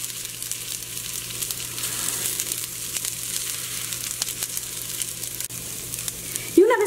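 Rice browning with onion and garlic in a pan gives off a steady, close sizzling hiss throughout, ending in a brief scrape or clatter as it is stirred.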